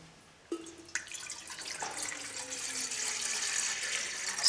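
Water is poured into a cooking pot for a dish of Kenyan kunde with sweet potatoes, starting with a clunk and building into a steady, splashing rush that grows fuller as the pot fills.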